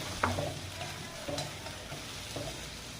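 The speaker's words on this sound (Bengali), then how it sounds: "পেঁয়াজ রসুন ভেজে নিচ্ছি।" Onion and garlic frying in a pan with cauliflower fritters, a low steady sizzle with a few soft stirring scrapes, quiet and close.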